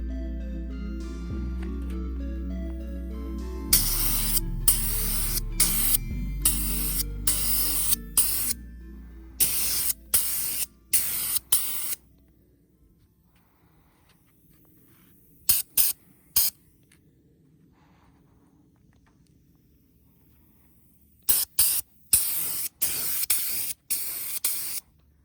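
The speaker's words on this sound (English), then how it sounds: "That's not the best spraying in the world" A spray gun sprays clear coat onto car parts for a V12 Datsun 260Z build, in repeated sharp close hissing bursts of varying length separated by quiet pauses, with a low machine hum early on.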